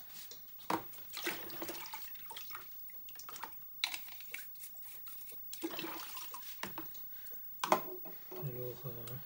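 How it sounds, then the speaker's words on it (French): Dirty parts of a Biomaster unit are rinsed under running water, with uneven splashing bursts and someone speaking French over them. "Allez, un petit coup de rinçage maintenant là-dessus."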